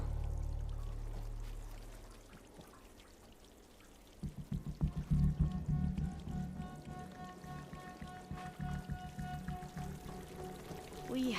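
Flowing water in the video game Horizon Forbidden West starts as a faint trickle, then swells into a louder, continuous pouring stream that runs on to the end, with no speech.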